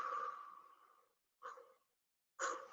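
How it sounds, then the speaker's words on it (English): Three soft breaths pushed out through the mouth during a breathing exercise, one long and two shorter with silent gaps between, near and fairly quiet. "Exhale."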